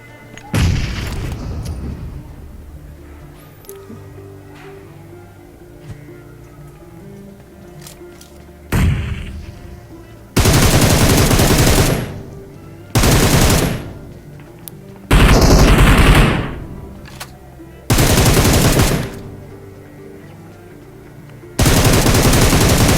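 Grenade blasts and gunfire in a mobile battle royale game: a loud early boom, then quieter stretches broken by several heavy, sustained bursts of automatic fire, each cutting off abruptly.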